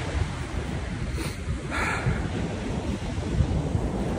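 Ocean waves wash onto the shore outdoors, a steady broadband surf roar with buffeting wind noise on the microphone, continuous and fairly loud with no voices.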